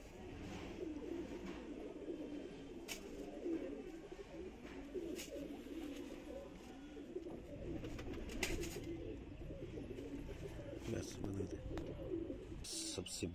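Pigeons coo with soft, low repeated calls through a home loft of paired birds, steady and moderately close, with light background noise and occasional higher chirps.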